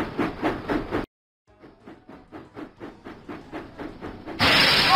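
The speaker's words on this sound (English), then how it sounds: "James puffed proudly into Knapford Station." Steam engine from a Thomas & Friends video game puffing in a steady rhythm of hissing chuffs, stopping briefly, then resuming and quickening before a loud burst of steam release at the end.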